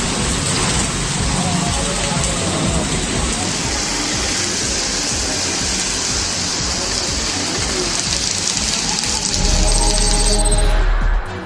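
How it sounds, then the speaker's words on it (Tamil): A heavy evening thunderstorm downpour in Kanchipuram makes a dense, steady roar of rain that continues throughout and swells louder near the end. "சுற்றுவட்டார பகுதிகளில் இடியுடன் கூடிய கனமழை பெய்ததால் வாகன ஓட்டிகள் சிரமமடைந்தனர்."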